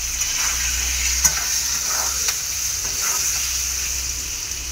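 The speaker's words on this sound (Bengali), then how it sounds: "এবার আলুটা একটু ভালো করে ভেজে নেব" Potato pieces seasoned with salt and turmeric fry in a pan, producing a steady close sizzle with a few sharp scraping knocks of stirring.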